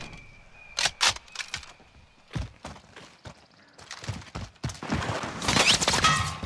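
Video game gunfire on a patrol mission, with sharp broadband shots: a few isolated cracks early on, then a denser, louder burst of fire toward the end over steady background noise.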